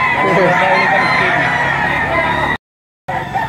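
At a chicken auction, a roughly year-old gamecock gives a loud, sustained crow close by amid crowd noise and murmured talk, which cuts off abruptly before the background resumes.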